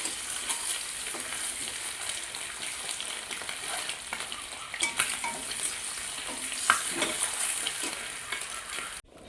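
Egg curry frying in a pan at home, with a steady close sizzle and scraping stirs running throughout, and a few louder bursts near the end. No talking.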